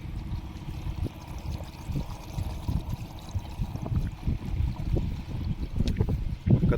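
Diesel glugs from a can into a farm tractor's fuel tank, giving a steady low splashing pour with uneven gurgles that run for several seconds and swell louder near the end.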